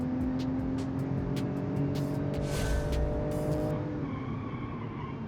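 A 1990 sedan with an automatic gearbox accelerates hard, its engine note climbing steadily and loud up close, with brief tire squeal partway through and the revs easing off near the end.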